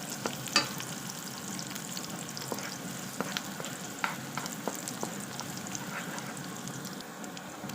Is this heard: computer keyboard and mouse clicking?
no